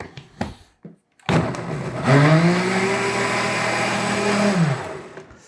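An electric mixer whirs loudly and steadily through waffle batter made with brown sugar, cornstarch, baking powder and soda, running for about three seconds after a few brief knocks and handling sounds.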